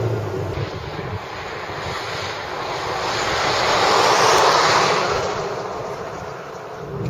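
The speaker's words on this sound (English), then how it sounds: "that's road noise, and it's transmitting directly through the wheels" A constant broadband rumble of tires on the road heard from inside a 2014 Hyundai Accent, swelling slightly midway and then easing, with no talking.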